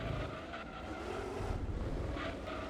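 Race car engine in the Gran Turismo 2 video game, a continuous burbling, watery-sounding drone with fluctuating pitch and faint tire noise, heard alone at moderate level.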